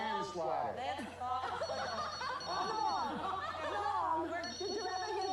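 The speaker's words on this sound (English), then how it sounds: "The phone is ringing." A telephone rings in repeated bursts during an interview, mid-level and partly masked by overlapping voices and chuckling laughter.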